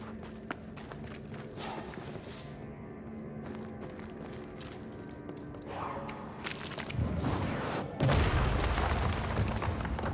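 In the game Banishers: Ghosts of New Eden, heavy explosions erupt in the second half as a loud, broad roaring blast, building from a low rumble into sustained booming.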